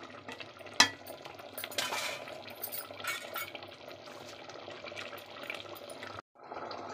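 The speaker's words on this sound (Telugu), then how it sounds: "మొత్తం వద్దు, కొంచెం వేసుకుని కలిపేసుకోవాలి బాగా." A spoon stirs mutton paya gravy curry with garam masala in a pot, a soft wet scraping and bubbling at close range, with a sharp utensil clink near the start and a brief pause near the end.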